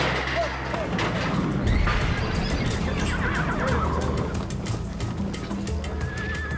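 Horses neigh and whinny during an outdoor roundup where they are being corralled, with hooves clopping and voices talking in the background throughout.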